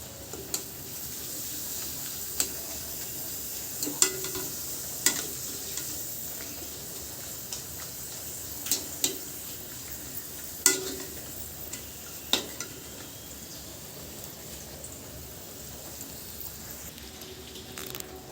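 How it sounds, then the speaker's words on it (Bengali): Papads fry in hot oil with a steady soft sizzle, and scattered sharp pops and ticks from utensils sound through the bubbling at a close distance. No one speaks. "তো এখন এই পাঁপড়গুলো ভাজবো।"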